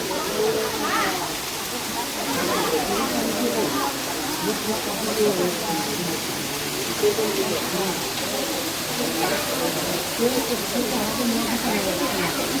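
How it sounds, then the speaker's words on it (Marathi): A small spring or waterfall flows in a continuous, fairly loud rush of water, with people talking over it throughout. "इकडं असा पाण्याचा झरा."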